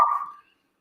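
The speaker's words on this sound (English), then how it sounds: "Now he's barking." A dog gives one short bark, close and fairly loud, cut off quickly and followed by silence.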